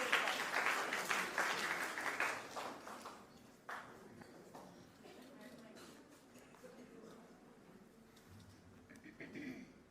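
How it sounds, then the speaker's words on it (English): An audience at a storytelling competition grand finale cheers and claps for a speaker. The applause is loud at first and fades after about three seconds, leaving quieter room noise with faint voices. "Let's cheer loudly for Armeet."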